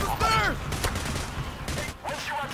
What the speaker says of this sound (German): Ich kann durchs Gitter schießen von unten nach oben